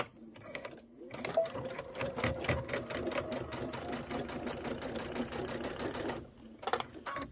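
A Kimberbell sewing machine stitching a pillow, a rapid even mechanical chatter of needle strokes running for several seconds between short quiet pauses, close and moderately loud.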